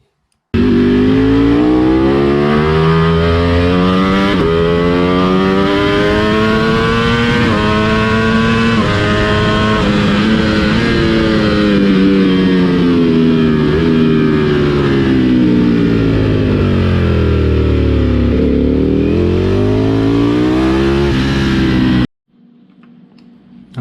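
A Ducati ST motorcycle lapping the Yeongam KIC race circuit, its engine loud and close throughout, rising and falling as it revs through gears and corners, then cutting off abruptly near the end.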